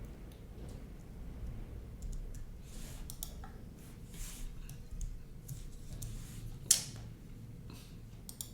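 Typing on a computer keyboard, faint scattered key clicks and taps over a soft room hiss, with one sharper click standing out.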